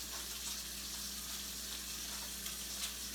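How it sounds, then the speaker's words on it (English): Warm tap water runs into a sink for hand washing, a steady hissing splash with a low electrical hum beneath it. "Let the water get warm."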